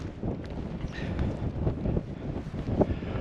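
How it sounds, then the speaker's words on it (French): Wind rises on a mountain trail in the Vercors, buffeting the microphone in uneven, gusty rushes that stay fairly quiet and close. "et en plus le vent se lève"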